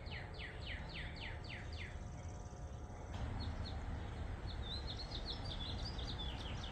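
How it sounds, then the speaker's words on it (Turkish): Birds chirp and twitter in quick repeated phrases over a steady background hiss, fairly faint, with several distinct calls overlapping outdoors around a fig tree in the morning. "Yine kuş sesleriyle bir sabah"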